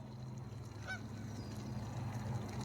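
Geese or ducks from a large flock give a brief honking call, fairly faint and distant, set against steady low rumbling outdoor background noise.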